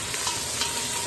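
Onions sizzle and fry in a pan for pancit, a steady bright crackle with faint stirring, close and continuous over about a second with no voices.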